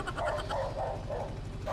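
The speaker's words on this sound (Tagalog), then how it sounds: "ang ingay ng aso" Dog barks repeatedly somewhere in the distance, several soft woofs in a steady rhythm over a low continuous rumble.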